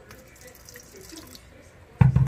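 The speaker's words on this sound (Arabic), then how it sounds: "نديروا لها شويه ماء سخون" Hot water is poured over yeast for pizza dough. A near, sudden gush of pouring and splashing comes at the very end, after a near-silent stretch.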